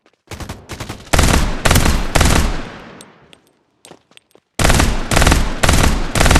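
Gunfire in the Farlight 84 video game: loud rapid automatic bursts, a long volley fading out, a brief lull with a few isolated shots, then another heavy sustained burst close up.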